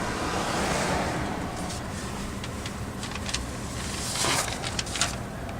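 Ocean surf washes in a broad, steady rush from a distance, mixed with wind noise on the microphone, fairly faint with no talking.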